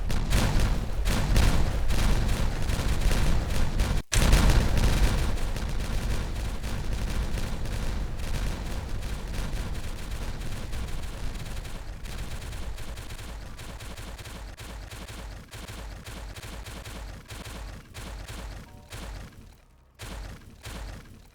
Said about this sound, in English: I've gone a bit explosive mad, so let's detonate all these.